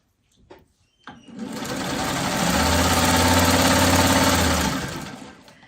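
A sewing machine stitches quilt fabric corner to corner, starting with a couple of short clicks, then running in a loud, steady mechanical whir for several seconds before slowing to a stop.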